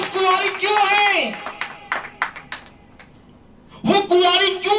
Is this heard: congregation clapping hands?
yes